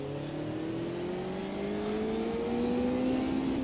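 Race cars accelerating off the line at a race start in Automobilista 2, engines rising steadily in pitch as they build speed, loud and continuous with several cars overlapping.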